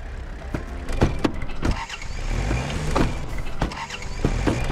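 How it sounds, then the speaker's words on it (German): A car engine cranking and turning over in the hunting game Way of the Hunter, with sharp mechanical clicks and thumps over a steady low rumble, repeated several times, close and fairly loud. "Jetzt musste ich natürlich dreimal den Motor anlassen hier."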